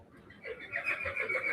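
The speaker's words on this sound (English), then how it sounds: "Hey, boys, a pretty horse." A horse whinnies at a horse and mule auction, a brief, fairly quiet high neigh with a few rising and falling pulses, with faint auction-barn noise beneath.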